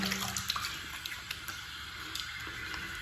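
A safety razor is rinsed under a running bathroom tap, giving a steady, close rush of water with small splashes and clinks and no talk.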